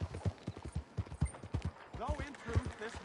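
Horse hooves clip-clop in a steady, even rhythm through Red Dead Redemption 2, fairly close, with a few bird-like calls near the end.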